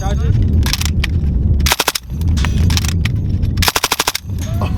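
A soldier's machine gun fires two loud close bursts of rapid automatic shots, each separated by a rumbling, noisy stretch of outdoor background.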